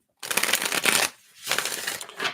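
Oracle cards are shuffled up close in two bursts of rapid riffling, separated by a short pause.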